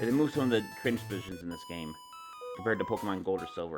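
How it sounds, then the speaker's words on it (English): A mobile phone rings near a microphone with a series of steady electronic tones while a person keeps talking over it during Pokemon Crystal gameplay. "Excuse me, that was my phone."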